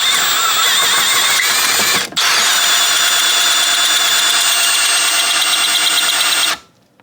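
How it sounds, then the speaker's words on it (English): A power drill whirs steadily at high speed, loud and close, with a brief dip about two seconds in before spinning up again and then winding down to stop. "And then now when you spin the drill"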